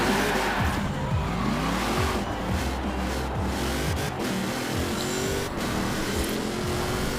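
A C8 Corvette engine in the racing game Forza Horizon 4, revving repeatedly through quick rising and falling gear sweeps, loud and close with a growling exhaust and brief hints of tire noise.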